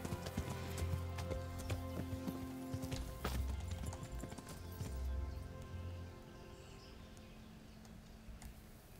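Horse hooves clip-clop in Kingdom Come: Deliverance as a rider mounts and sets off, a steady close rhythmic clatter of a walking horse, fairly quiet, with faint background game sounds.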